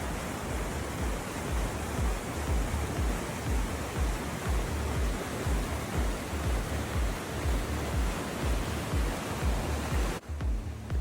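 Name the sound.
waterfall on a high-country creek above the South Yuba River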